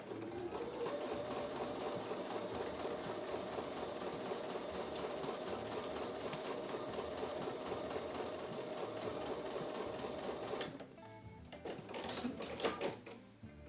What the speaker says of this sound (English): I'm going to take these to the sewing machine and sew with a 1/4 inch seam.